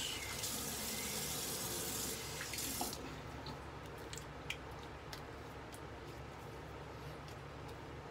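Water runs from a tap into a sink to rinse after a quick shave, loud and steady for about three seconds, then quieter running water and small drips continue to the end, with no talking.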